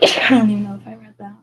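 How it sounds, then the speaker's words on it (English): A person sneezes once, loud and close, during a tarot reading, and a few spoken words follow right after. "I think I've sneezed in every reading"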